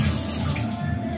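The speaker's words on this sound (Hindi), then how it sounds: "पानी में धो दिए हैं।" Peeled, cut beetroot and tomato are rinsed in water while preparing beetroot juice in a village kitchen, giving a steady, close splashing and trickling wash that runs continuously without pause.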